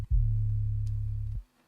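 A single deep 808 bass note in a chill beat, a smooth sustained low boom that holds steady for over a second and then cuts off, heard alone and fairly loud.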